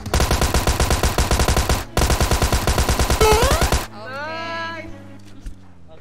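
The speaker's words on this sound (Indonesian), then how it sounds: "Dia nembakin kita dari tadi. Pakai Thompson nggak tuh" Thompson submachine gun fire in a video game, with rapid sustained bursts, a brief pause, then another long burst before it cuts to a quieter game tone and electronic sweeps.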